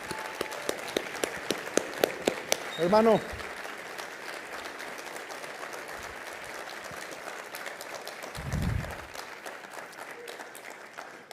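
A business forum audience applauds the president of Coparmex, a distant, scattered clapping that carries on steadily across the hall, with a brief spoken word and a low voice breaking in partway.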